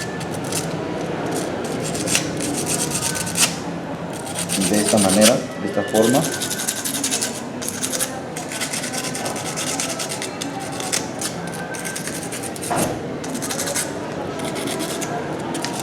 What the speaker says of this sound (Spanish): Utilizamos también una lija fina